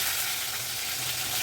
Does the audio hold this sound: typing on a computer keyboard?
no